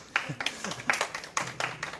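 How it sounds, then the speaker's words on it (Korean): A small group in a prenatal class on using strollers and car seats claps briefly, with a scattering of uneven, close hand claps over about two seconds. "박수 인사 한번 해주세요."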